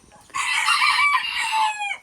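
A mini Garnisé bantam rooster in its pen lets out one loud, close crow of about a second and a half, ending in a trailing high note.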